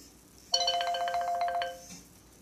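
A phone rings with an incoming call, a bright melodic ringtone that starts abruptly, plays clearly for about a second, then cuts off and leaves quiet room tone.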